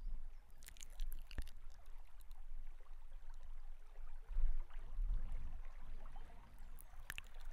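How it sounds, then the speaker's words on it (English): Gentle trickling of a stream heard up close, a soft continuous watery babble with small splashes and a low rumble, alone with no voices, in a binaural outdoor walk setting. "the sound of trickling water comes gently to my ears."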